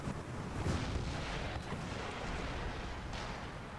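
Cannon artillery in the strategy game Empire Total War, a continuous low rumble of distant booming volleys with faint swells, quiet and without talk.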